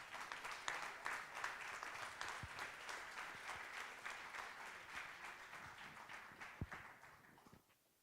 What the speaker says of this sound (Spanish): para quienes extendemos un aplauso también